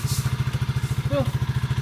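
A Skygo 150 motorcycle idling nearby, a rapid, even low thumping pulse throughout with a brief clatter, and a short vocal sound partway through.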